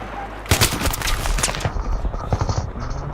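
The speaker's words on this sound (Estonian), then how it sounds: "Keegi laseb juba jälle." Rapid bursts of automatic gunfire in the Battlefield 3 video game, loud and dense from the half-second mark onward, with faint gameplay background and brief low voices.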